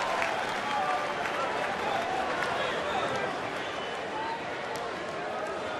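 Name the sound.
baseball crowd applauding Torrey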